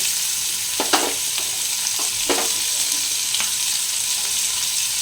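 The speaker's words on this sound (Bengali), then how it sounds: "এখানে আমি পেঁয়াজটা দিয়ে দেবো ফোড়নের জন্য, ভেজে নেবো এটা" Onion frying in hot oil as a tempering for a Bengali ridge gourd and prawn curry, a steady close sizzle broken by a few sharp scraping stirs of a spatula in the pan.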